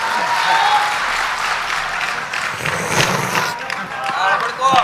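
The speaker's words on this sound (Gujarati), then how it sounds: "દાદાને જોરદાર તાળીઓના નાદ સાથે વધાવો" Audience applause at a Gujarati comedy show, a steady wash of clapping throughout at fairly close range, with some voices mixed in.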